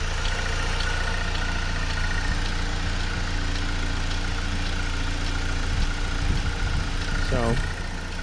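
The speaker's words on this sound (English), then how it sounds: "Engine sounds really good, guys. Nice and smooth." A 2011 Saab 9-5 engine idles smoothly and steadily, a constant low hum with a faint tick, close by and uninterrupted.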